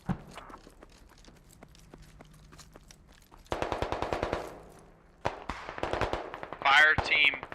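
Automatic rifle fire from the military shooter game Squad, a sharp rattling burst of rapid shots, a pause, then more cracking volleys close by, with scattered single shots and a brief electronic chirp at the end.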